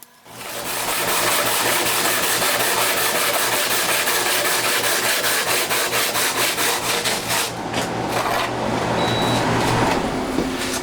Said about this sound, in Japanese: 断熱レンガノコギリで切るとノコギリすぐダメになっちゃうので